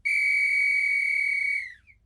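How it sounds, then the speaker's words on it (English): A single whistle blown in one long, clear, steady high tone lasting nearly two seconds, then cutting off with a faint brief chirp after, with no voices. "there was the faint, clear sound of a whistle being blown not far away."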